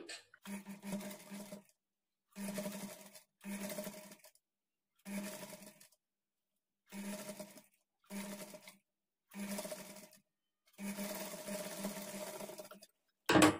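A sewing machine stitches a half-inch seam on a child's lehenga blouse in about eight short, even bursts separated by brief silences, close and without talk.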